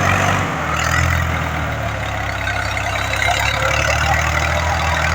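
A PM Green tractor with 14.9-28 rear tyres runs at a steady, loud idle, its low engine rumble continuous and close throughout.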